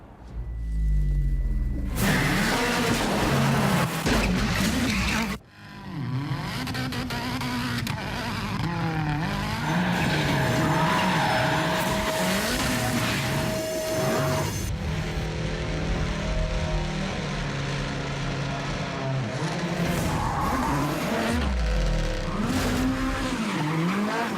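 A 2017 Ford Focus RS drives hard with a revving engine, shifting gears and roaring loudly, tires occasionally squealing, no voices.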